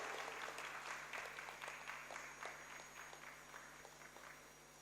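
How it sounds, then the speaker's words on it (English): Scattered applause from an award ceremony audience, a faint, thinning run of distinct claps over a steady electrical hum. "So let us give a huge round of applause."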